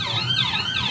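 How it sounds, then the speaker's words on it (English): An ambulance siren wails with rising and falling pitch, loud and fairly close, cutting through the low rumble of a Blackpool tram ride near Thornton. "There's the ambulance."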